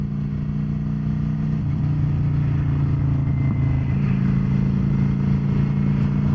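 A motorcycle cruising along Seven Lakes Drive near Bear Mountain in upstate New York, with a steady, loud low engine drone and wind rush that holds constant throughout, with no talking.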